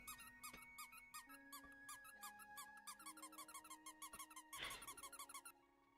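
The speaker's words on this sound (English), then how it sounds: "I'm gonna play the squeaky sound again" A cartoonish squeaky sound effect plays on a stream as a fast, rhythmic run of high squeaks and chirps with a steady backing tone. It is fairly faint but continuous and has no talk over it.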